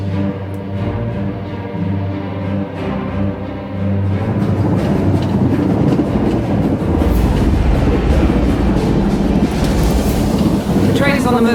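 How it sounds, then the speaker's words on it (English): A train rumbles steadily onward in the Old Republic Crisis on Umbara teaser trailer, a loud continuous clatter that swells after the opening seconds, with a voice speaking over it. "The train is on the move"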